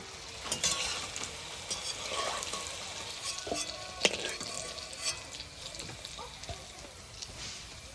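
Paneer frying in hot oil in a home kitchen, giving a faint, steady sizzle broken by occasional sharp clinks and scraping stirs, with running water nearby.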